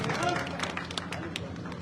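A crowd claps to welcome Kaswan at a Congress election rally in Chhapar, Churu, with scattered, uneven hand claps that stay moderately loud across the moment over a busy background.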